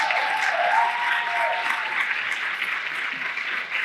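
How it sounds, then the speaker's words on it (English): A large audience at an agent mastery event gives sustained applause to long-serving real estate agents, a loud dense wash of clapping that carries steadily throughout the clip and eases off only slightly at the end. "Give these men and women a giant round of applause."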